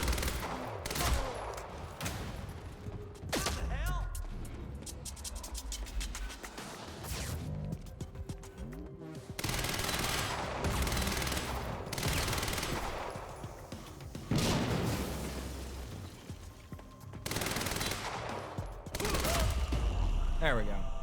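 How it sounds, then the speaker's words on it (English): Gunfire from shooting an enemy through a metal grating in the video game Quantum Break, with rapid bursts and single cracks repeating across the scene amid crashes and impacts, loud and close. "Cool that you can shoot him through the grating at least."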